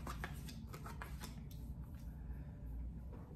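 A tarot deck of wand cards shuffled quietly, a few soft riffling flicks in the first half over a constant low background rumble, with no voices.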